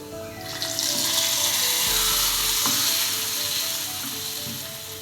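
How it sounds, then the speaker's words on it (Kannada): Hot oil tempering poured into potato gravy gives a steady, loud sizzle and crackle close by, continuing alone throughout with a brief splash partway. "ಈ ಥರ ಆದಾಗ ಇದನ್ನು ಸ್ಟವ್ ಆಫ್ ಮಾಡಿ ಒಗ್ಗರಣೆ ಹಾಕೋಣ ಗ್ರೇವಿಗೆ"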